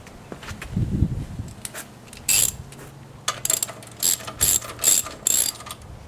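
A ratchet wrench works a shock bolt loose on a motorcycle, giving short bursts of quick metallic clicking in several separate runs, close and fairly loud, with small clanks between them.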